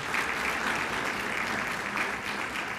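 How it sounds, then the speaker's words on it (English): An audience at a United Way event gives a dense, steady round of applause for board members, continuous clapping without pause. "would you give a great round of applause to all of these board members for their tireless work?"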